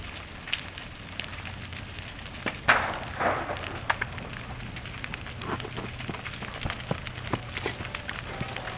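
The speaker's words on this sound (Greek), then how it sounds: "Πλησιάζουμε τη φωτιά." Rubbish burns in a fire at a dump inside an archaeological site on Andros, Greece, crackling and popping faintly in scattered snaps with a brief louder burst, heard from a short distance.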